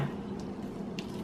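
Thick spinach artichoke dip mixture with cream cheese is poured into a baking sheet, giving a soft, close, continuous wet squishing sound with no talking.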